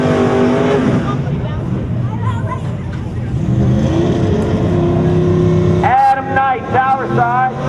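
A small block Camaro on nitrous at a drag race, engines droning and revving loudly with a sharp rising launch near the end, a track announcer talking over the roar.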